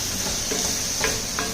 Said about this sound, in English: we'll just keep stir frying